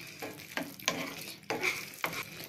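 Tomato thokku, a Tamil tomato pickle, sautéing in plenty of oil in a pan, a steady close sizzle broken by four or five sharp scrapes of a spoon stirring through the thick mixture.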